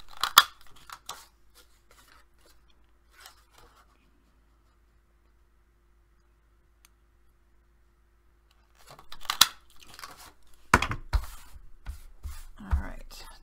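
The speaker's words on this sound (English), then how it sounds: "Trim off that edge." Scissors trimming the edge of paper for a mini album, with a few quick snips and paper rustles at the start, a long quiet stretch, then louder close cutting and crinkling toward the end.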